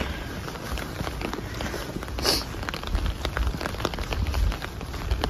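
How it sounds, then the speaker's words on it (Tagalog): Heavy rain pouring steadily in Germany, a dense continuous hiss with scattered drop impacts and splashes throughout, close and fairly loud, with no talking. "Ang ulan dito ngayon."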